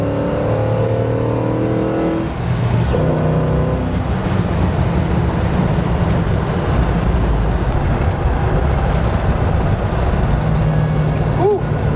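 An LS-swapped two-wheel-drive International Scout Terra with 4.10 gears accelerates hard, a loud, continuous engine roar with shifting harmonics that stays steady throughout, with occasional voices faint underneath.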